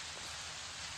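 Steady rain in the video game Fallout: New Vegas, a constant even hiss of falling water without breaks, moderately loud and with no voices.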